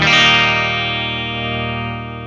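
A guitar played dry through a Boss SY-1 synthesizer pedal rings out as one loud sustained chord that slowly decays, clean and harmonically rich, with no talking.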